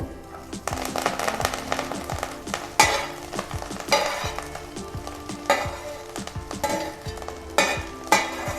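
Mankachu leaves sizzling in a hot pan with garlic, stirred with repeated scraping strokes that come in irregular bursts over a constant frying hiss, close up.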